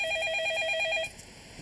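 A telephone rings with a warbling electronic trill for about a second, then cuts off, leaving a quieter background.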